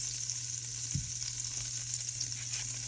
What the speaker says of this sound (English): I am going to saute me a whole medium onion.